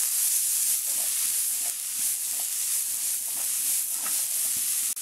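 Squash sautéing in a pan on the stove, a steady soft sizzle and hiss with faint stirring ticks, alone and fairly quiet throughout.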